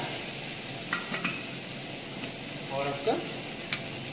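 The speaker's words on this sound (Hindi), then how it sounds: "ये हो चुका गरम, इसमें डालेंगे हम प्याज, आपका चॉप करा हुआ प्याज" Chopped onion sizzling in hot oil for Rajasthani poha, a steady close frying hiss with a few light stirring clinks, while a voice talks briefly.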